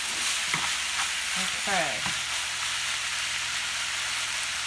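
Onions sizzle and fry steadily in a pan, a constant bright hiss with a few spoon scrapes and stirring clatters. A voice speaks briefly, and the sound stays close and continuous.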